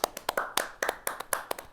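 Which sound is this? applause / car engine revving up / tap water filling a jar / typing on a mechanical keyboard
applause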